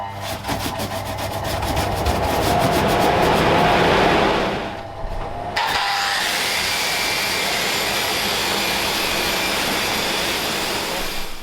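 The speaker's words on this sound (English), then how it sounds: "Again, put the fan on." An electric fan whirs steadily while leadlight putty is worked, a broad continuous rushing hum, with a rougher scraping texture at the start and a brief dip in the middle.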